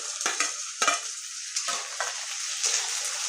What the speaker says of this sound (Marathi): तर आता कांदाही थोडासा फ्राय झालेला आहे तर याच्यात घालूया आपण टोमॅटो